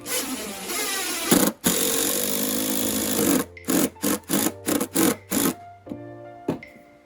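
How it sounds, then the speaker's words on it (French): A drill drives a deck terrace screw into dry fir wood, first as a long steady whir, then as a quick series of short bursts as the screw is pushed deeper, loud and close with no speech. "Maintenant on va essayer de pousser le vis un petit peu plus loin, ou justement sur du sapin."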